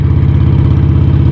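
A motorcycle engine fitted with a Stage 1 intake and air cleaner and slip-on exhausts runs steadily close by, with a loud, even, throbbing low rumble that holds constant without revving.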